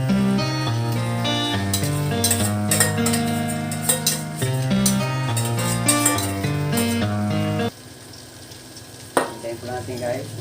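Sliced garlic fries in oil with a steady bright sizzle and crackle, first partly masked by loud music, then heard more plainly alone near the end with an occasional utensil clink.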